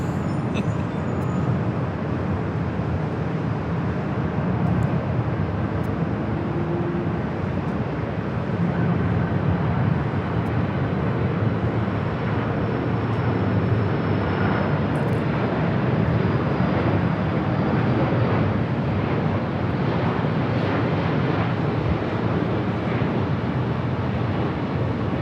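Airliner arriving on the north side at Los Angeles LAX, a continuous low jet rumble and whine that stays fairly steady and close throughout, with no talking.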